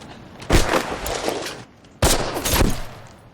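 Two loud, booming rifle shots from a sniper scene in a World War II war drama, each a sharp crack followed by a long rolling echo, about a second and a half apart.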